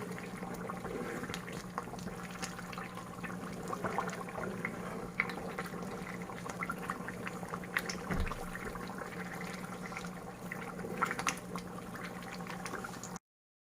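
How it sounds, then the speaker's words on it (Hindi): Butter simmering with wheat in a pot as ghee rises to the surface, giving a steady close bubbling and sizzling hiss with faint liquid pops, continuous and without talk. "इस तरीके से हम लोग बॉयल करते जाएंगे और घी हमारा ऊपर आता जाएगा"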